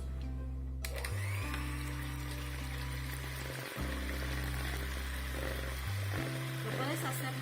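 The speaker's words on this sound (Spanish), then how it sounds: "Vamos a batir nuestras claras previamente separadas de las yemas." Egg whites, already separated from their yolks, are beaten with an electric mixer in a home kitchen, giving a loud, steady motor whine whose pitch steps up and down as the speed changes, running throughout.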